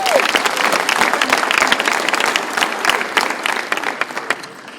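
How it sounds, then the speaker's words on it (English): A crowd at a basketball camp gives a coach a round of steady, loud applause that carries through, with faint voices mixed in. "Let's clap it up for Perry Wang."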